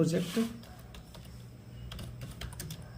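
Computer keyboard typed on while making a page cover, a stream of soft, rapid key taps under a voice speaking at the start, close and fairly faint.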